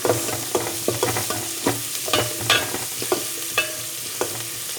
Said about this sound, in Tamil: ரொம்ப வதங்கணும்னெல்லாம் தேவையில்லை. கொஞ்சம் வதங்கினா போதும்.